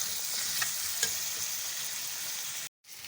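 Chicken pieces sizzle and fry steadily in a hot pan with garlic and ginger for a bhindi gosht curry, a dense continuous crackle with a few brief stirring clinks, then a short abrupt gap before the frying resumes.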